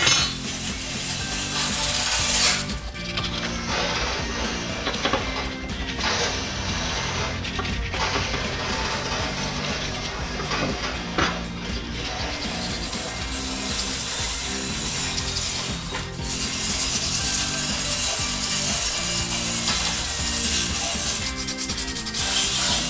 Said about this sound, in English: sanding and sanding and sanding